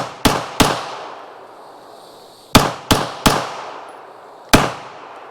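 Six sharp pistol shots from a WWII-era Canadian John Inglis No. 2 Mk 1, fired outdoors in an irregular sequence: two close together, a long pause, then three quick reports and one more, each loud with a ringing decay.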